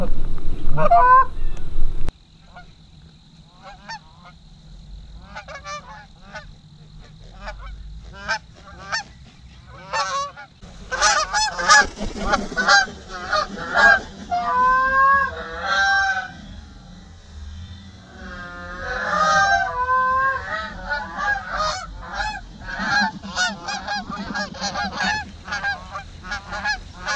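Geese honking during a late-September goose hunt outdoors, a flock calling in repeated loud, overlapping honks that swell and fade in bursts, with a few muffled low sounds early on.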